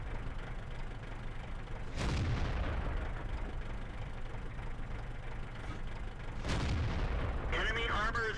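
Tank cannon fire in World of Tanks, two heavy booming shots several seconds apart, each with a sharp onset and rumbling tail over a constant engine drone, with someone talking.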